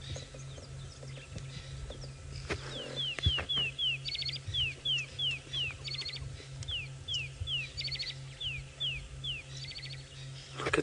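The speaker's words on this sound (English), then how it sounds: "That's Wahlberg's eagle." Wahlberg's eagle calling on an evening safari drive in the South African bush, a series of thin descending whistled notes repeated in bursts at moderate distance, over a low steady vehicle engine hum and faint background birdsong.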